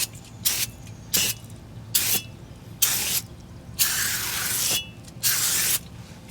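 Aerosol cleaner sprayed onto a Subaru car wheel in a rebuild shop before painting, six short hissing bursts in an uneven rhythm, one held longer than the rest, close and fairly loud.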